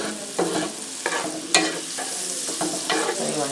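Garlic sautéing in a pan for a Cajun shrimp and sausage Alfredo pasta, with a steady soft sizzle, several scraping stirs and a sharp clack near the middle, close and with no voices.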